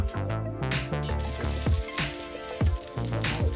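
Two to three tablespoons of oil sizzle loudly on a hot tawa griddle, a bright crackling hiss with rhythmic surges and sharp pops, heard close and alone.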